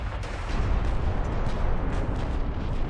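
Torpedo hits explode against a warship in Ultimate Admiral: Dreadnoughts, a dense continuous rumble of booms with heavy low-end, loud and steady throughout with no talk.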